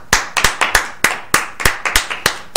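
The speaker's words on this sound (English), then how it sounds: "Give a round of applause for him" A handful of people in a podcast studio clap for the founder of Mega64, giving a crisp, close run of about fifteen separate, fairly evenly spaced claps with no talking.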